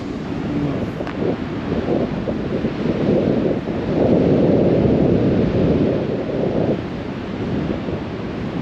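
Strong wind buffets the microphone during landkiting at Šventoji, Lithuania, with a constant low roar that swells in the middle and eases slightly toward the end.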